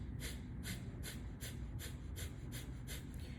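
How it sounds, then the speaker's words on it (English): Kapalabhati breathing in a pranayama practice: about ten quick, forceful nasal exhalations in an even pulsing rhythm, close and fairly soft over a low background hum. "So this time the inhalation is passive and the exhalation is forceful."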